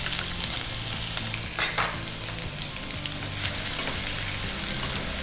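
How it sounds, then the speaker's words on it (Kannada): Chopped onion and cardamom fry in an oiled pan for a palak green gravy, giving a steady, close hiss with faint scraping stirs and occasional clinks, no voices over it. "ನೀರುಳ್ಳಿ ಸ್ವಲ್ಪ ಕಲರ್ ಚೇಂಜ್ ಆಗುವಷ್ಟು ಫ್ರೈ ಮಾಡ್ಕೊಳ್ಬೇಕು"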